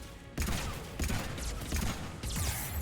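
Heavy gunfire in a video game battle against Geth erupts in repeated loud bursts, with sharp volleys starting and stopping several times amid a dense crackling barrage.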